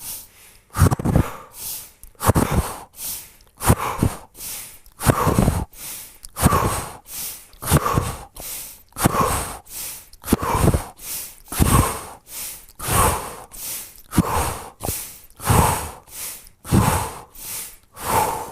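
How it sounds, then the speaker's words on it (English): Deep rhythmic breaths during a Taoist breathing exercise, about fifteen forceful nasal inhales and exhales in a steady cycle, close to the microphone and loud, with no talking. "So you inhale."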